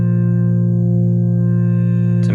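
A Roland JX-30 synthesizer plays a steady sustained tone with the filter resonance turned up, giving a bright, buzzing, rich held note that stays loud and constant before a brief shift at the very end.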